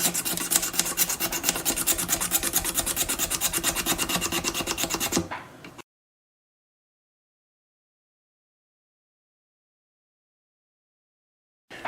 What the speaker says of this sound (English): we'll take the single edge 12 thousandths razor blade, and we will scrape the fretboard